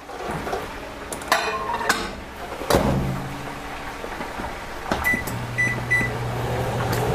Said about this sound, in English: put this in the microwave for 3 minutes